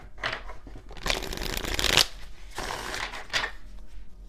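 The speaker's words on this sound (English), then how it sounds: "Let's do one more shuffle just in case." Tarot cards are riffled and shuffled close up: several short bursts of rapid papery flutter, one longer sweep in the middle, and then a final quicker riffle.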